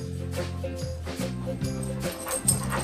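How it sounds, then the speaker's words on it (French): A dog makes short whimpering yips in bursts, close and moderately loud, with some faint jingling in the background. "Un chien répondant au nom de Théo."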